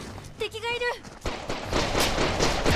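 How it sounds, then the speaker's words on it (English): A burst of rapid video game gunfire from the 2014 Japanese first-person shooter The Legend of Alfur crackles and rattles continuously after a short voice, loud and close, with dense repeated shots. "Yeah, it was gunfire."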